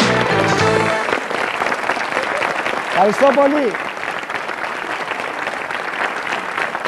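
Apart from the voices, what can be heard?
studio audience applause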